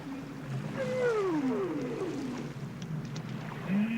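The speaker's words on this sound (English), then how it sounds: "Philippe once more finds consolation in listening to the calls of the whales reverberating through a" Long sliding whale song calls echo through an underwater canyon, descending moans and rising whoops over a low steady ocean rumble, fairly near and without any voices.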